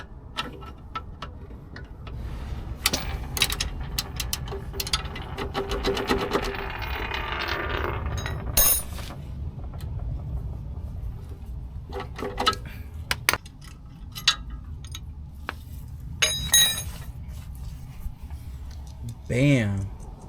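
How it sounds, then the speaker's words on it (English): A ratchet clicks in quick ticking runs while transmission bolts come off a 1979 El Camino, with metallic clinks of tools around it and someone talking at times. "start removing all the bolts that's holding up the transmission"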